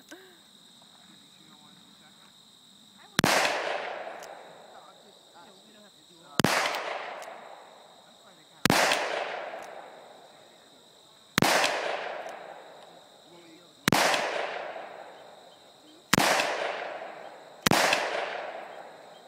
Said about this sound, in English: I was filming just a little bit of her shooting and stuff like that.